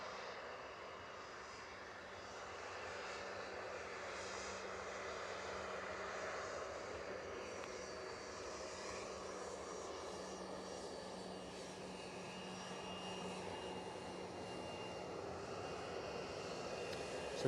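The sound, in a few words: Loganair aircraft at Edinburgh Airport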